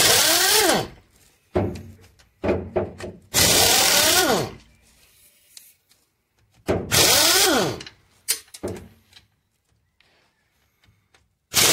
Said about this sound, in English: You're going to want to remove these 10 bolts to hold your diff cover on.